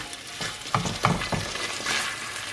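Soft sizzling in a frying pan, with a few scraping stirs close by, brief and moderate in level.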